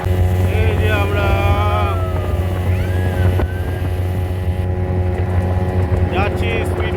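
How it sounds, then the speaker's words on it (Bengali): A speedboat carries riders across water near hills on a trip through Purulia, its engine drone and wind rushing loud and steady throughout, with people talking over the motor. "যাচ্ছি স্পিড বোটে করে।"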